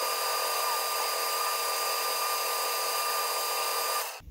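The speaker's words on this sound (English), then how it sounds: "We'll hit it with a little bit of rubberized abrasive here." Rubberized abrasive wheel polishing the metal threads of a Kant twist style clamp, a steady high-pitched whine with a continuous scuffing grind for about four seconds, close and loud, stopping abruptly at the end.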